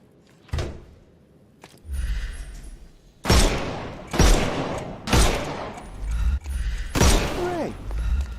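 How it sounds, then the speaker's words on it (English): Sharp gunshots ring out one after another in a Sherlock Holmes Chapter One combat scene, firing to knock armour off enemies, with about six loud reports at uneven gaps and some voices between them. "Shoot off their armour."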